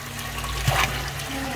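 Well water pumped up into a koi pond waterfall pours and splashes steadily nearby, a continuous rushing flow with a brief gurgle in the middle.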